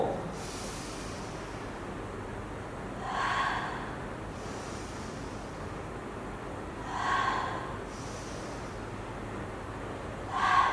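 Three strong exhaled breaths during a pilates core exercise, each a soft rushing puff spaced about four seconds apart, close and clear over a quiet room background.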